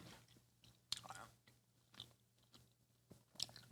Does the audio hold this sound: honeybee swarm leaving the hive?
no